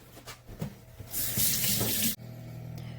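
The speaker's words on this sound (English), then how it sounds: "Let me wash my hands first." A kitchen tap gushes for about a second while hands are washed under it, with a close, hissing splash that cuts off abruptly and leaves a quiet room hum.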